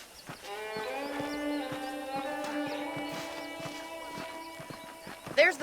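Saddled horses in the video game Red Dead Redemption on Xbox One clip-clop at a steady walking rhythm over a sustained tonal background, ending with a sharp snort or whinny.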